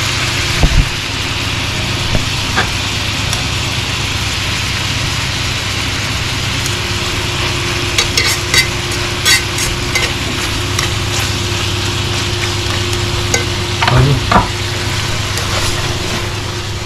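Gambas shrimp frying in a pan, a steady loud sizzle with occasional scraping stir strokes and clinks, near and continuous without talk.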